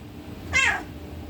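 A pet cat lets out a single short, bright chirp, close and clear against a quiet room with no talking.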